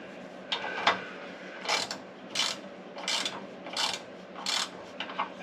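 A bolt being threaded back into a vehicle's rear end with a ratcheting tool, heard as a series of short, close, rhythmic ratchet clicks and bursts, about seven in quick succession.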